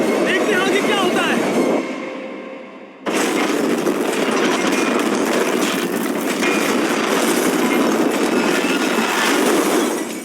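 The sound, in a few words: train speeding along the track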